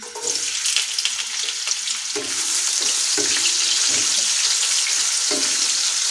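Medium onions frying in hot oil with whole spices for chicken dum biryani, a steady close sizzle broken by the scrape and clink of stirring every second or so, no voices.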